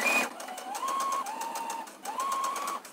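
A sewing machine stitches the back seam of trousers being taken in. It makes a close, steady whirring hum in two bursts separated by a brief pause.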